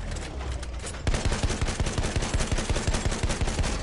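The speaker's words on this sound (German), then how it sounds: "Maschinengewehr, eindeutig feindlich!" Battlefield 1 machine gun fire: after a second of background noise, a rapid, loud, sustained burst of evenly spaced shots rattles close by without a break, with no voices.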